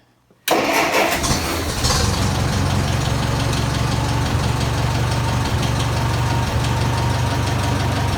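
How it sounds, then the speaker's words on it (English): A Massey 65 tractor engine starts on choke, cranking briefly before catching and settling into a loud, steady, close idle that runs on without talk. "Try it again. Choke start."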